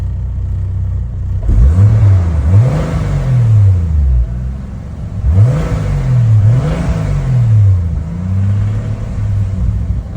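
A 1989 Toyota Supra MK3 with a 7MGTE engine revs up twice from idle, each rise and fall in pitch clearly audible over a steady rumble, with an odd noise appearing around 2,000 RPM.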